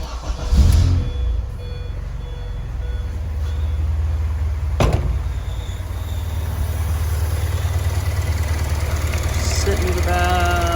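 A K-swapped Mini Cooper engine runs at a steady low idle after starting, a continuous rumbling drone that holds throughout, with a brief rise in loudness near the start.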